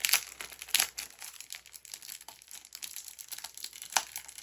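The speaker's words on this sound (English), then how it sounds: "I'm going to use some scissors just to cut the tape" Scissors snip and crinkle through packing tape on a boxed Jem fashion doll, giving a run of close, irregular crackling cuts with sharper bursts at the start and near the end.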